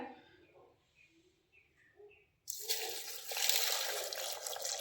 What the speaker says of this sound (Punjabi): ਤੇ ਹੁਣ ਆਪਾਂ ਇਹਦੇ ਵਿੱਚ ਪਾ ਦਾਂਗੇ ਜੀ 1 ਗਲਾਸ ਪਾਣੀ ਦਾ